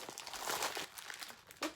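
Plastic packaging crinkles and rustles as it is pulled off a fashionable bag from a luxury accessories box, a close, busy series of crackling bursts with a sharper crunch near the end.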